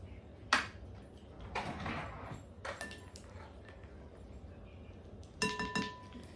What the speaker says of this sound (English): if I can get the lid back on the vanilla, that would help